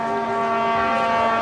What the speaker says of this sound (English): Trumpet.